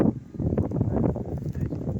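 Loud, steady wind buffeting the microphone while flying a kite, a dense low roar that gusts slightly but never lets up across the whole stretch.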